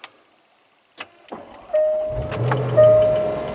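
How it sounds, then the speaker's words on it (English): A Range Rover SVR with a naturally aspirated V8 starts up: a click, a brief starter crank, then the engine catches and settles into a loud, close, steady grumbling idle. "As you can hear the grumble of that naturally aspirated V8."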